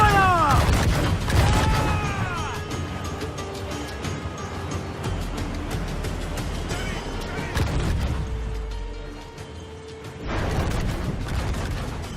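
Ship cannons boom in rapid volleys during a naval battle in Assassin's Creed IV, heavy blasts and rumbling mixed with game music, shouted crew voices and ringing mechanical clatter.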